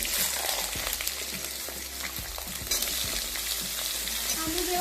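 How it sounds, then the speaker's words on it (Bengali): Potato pieces fry in hot oil with tempering spices for a Bengali ridge gourd dish, a steady close sizzle broken by repeated scraping of a stirring spoon. "এরপর আমি আলুটা এর মধ্যে দিয়ে দিচ্ছি ভেজে নেওয়ার জন্য"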